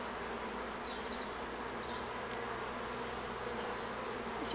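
Honey bees at an open hive hum in a low, constant drone, with brief louder buzzes as individual bees fly close.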